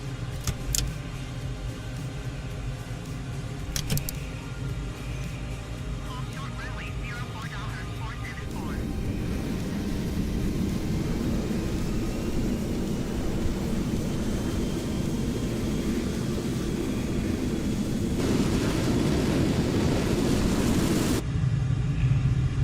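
An F-14 Tomcat in Microsoft Flight Simulator spools up and rolls down the runway for takeoff, a steady jet roar that swells and grows louder and broader as it accelerates, with a voice talking over it at times.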